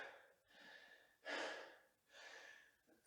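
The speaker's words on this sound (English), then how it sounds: "you can hear my breathing" Heavy breathing during a slow, deliberate workout: three close, breathy exhalations and inhalations in an uneven rhythm, the middle gasp loudest, quiet overall with no talk.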